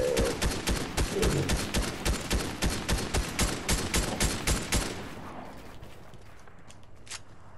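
Rapid automatic gunfire in a video game fires as a close, loud, evenly spaced burst of shots for about five seconds. It then cuts off, leaving quieter ambient noise and a faint clank.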